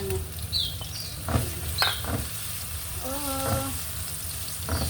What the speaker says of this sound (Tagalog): gisa tayo ng sibuyas